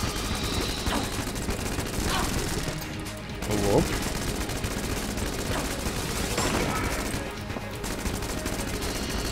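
Rapid bursts of gunfire from Earthworm Jim's gun crackle over dense, busy game noise, with a brief muffled voice partway through.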